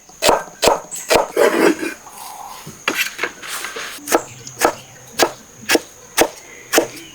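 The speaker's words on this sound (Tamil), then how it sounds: "வெங்காயத்தை இப்படி சின்னதாக அரிஞ்சுக்கிறோம்." A knife chops onions finely on a board with sharp, close taps, first in quick clusters and then settling into a steady, evenly spaced beat of single chops, with no voices.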